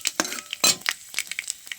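Panch phoron spices frying in oil for cooking greens, stirred with a utensil: short scraping strokes and light clinks against the pan over a soft sizzle, close and brisk.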